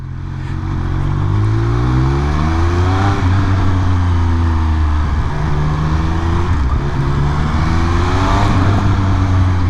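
A Triumph Speed Triple 1200 RS motorcycle ridden near Toulouse, its engine loud and steady throughout with rising and falling revs as it shifts through gears, with no talking.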